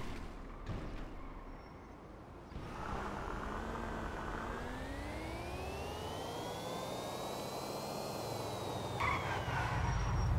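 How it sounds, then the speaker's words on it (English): A motorcycle engine in the video game GTA 5 approaches from behind a car, its rising and falling whine sweeping past over steady road and engine noise, fairly loud and with no talking. "Oh, behind us. It's a motorcycle."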